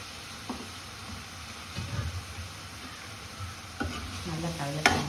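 Brinjal, drumstick and raw mango being stirred and fried in a thick, very hot kadai, with a soft steady sizzle and intermittent scraping and stirring knocks, louder toward the end.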